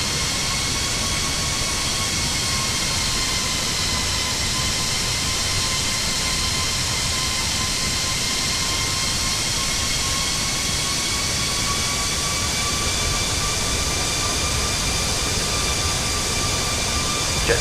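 Steady, loud jet engine whine and broadband rumble of an airliner on approach to land at Melbourne in Microsoft Flight Simulator 2024, continuous and unchanging throughout with a faint rising tone, no voices.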